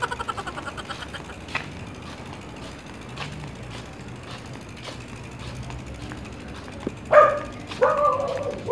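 A dog barks in a few short, sharp bursts near the end, over faint creaks and footsteps outdoors.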